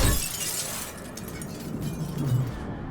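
An object being smashed in the video game Baldur's Gate 3: a loud, brief shattering crash with a scattering, breaking tail over about three seconds, with no talk.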